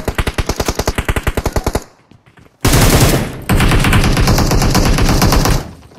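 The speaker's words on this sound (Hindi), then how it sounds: "इधर से फायरिंग हो रहा था।" Automatic weapon fire in the mobile battle royale game PUBG Mobile: a rapid, loud burst of evenly spaced shots, a short lull, then two more dense, sustained volleys of gunfire up close.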